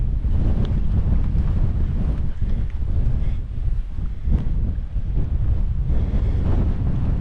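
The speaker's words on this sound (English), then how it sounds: "I was going to camp up here this time, but not with this wind." Strong wind gusting across open Dartmoor moorland, a loud continuous roar buffeting the microphone with rumbling surges and no let-up, no voices.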